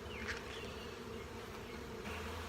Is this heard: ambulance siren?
no